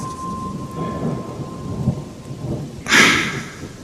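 Heavy rain hisses steadily on surfaces while a deep thunder rumble builds and breaks loudly near the end, with no voices.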